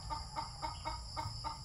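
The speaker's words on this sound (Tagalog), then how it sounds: "Yung manok na inahin." A hen clucks in a regular series of six soft calls, fairly close, over a low steady background hum.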